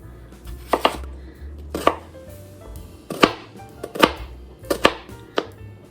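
A knife chops onion on a cutting board for potato salad, about eight sharp, close cuts falling in an uneven rhythm over a low background hum, with no talking.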